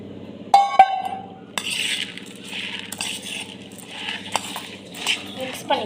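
Puffed rice chaat tossed and stirred in a bowl, with a metallic clink at the start followed by crisp rustling and scraping in uneven bursts, close by, over a low background voice.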